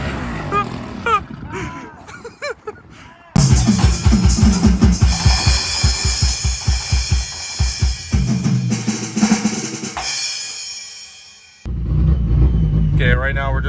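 A turbocharged Nissan S13 with a new camshaft accelerates loudly on a test drive, its engine note rising in repeated pulses before cutting off, then rumbling again, with speech heard in between.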